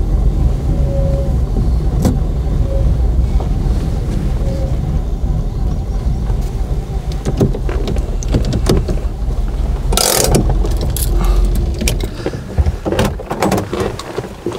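A 1959 Mercedes 300 d Adenauer idles and creeps along while parking, a steady low engine rumble throughout, with louder mechanical clunks and rattles toward the end.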